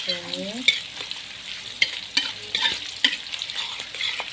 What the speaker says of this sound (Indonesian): Sekarang bawang merahnya dulu kita tumis sampai agak layu